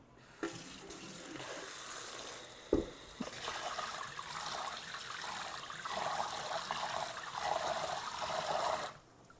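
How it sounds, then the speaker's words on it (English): Hands gently swirl basmati rice through a bowl of water, giving a continuous soft sloshing and trickling with a single sharper knock partway through, heard close and fairly quiet with no talking. "Now notice here I am taking my hands and just very gently swirling through the rice."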